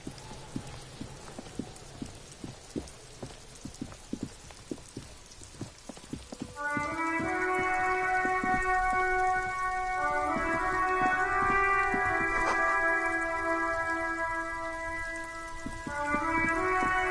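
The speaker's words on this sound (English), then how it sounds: "It's raining again." Rain pattering steadily in a video game, a dense soft hiss of drops with sharp nearby taps, while horse hooves clip-clop in front at first and sustained musical tones enter partway through and continue to the end.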